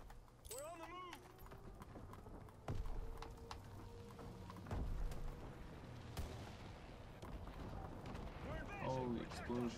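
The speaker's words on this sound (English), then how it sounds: "Holy explosions." Explosions and gunfire in a WWII shooter game: several sharp booms and blasts scattered through heavy battle noise, with people talking over the action.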